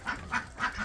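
Ducks being shooed away, giving three loud, nasal quacks in quick, evenly spaced succession close by.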